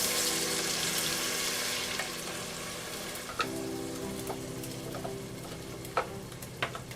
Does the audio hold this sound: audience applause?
no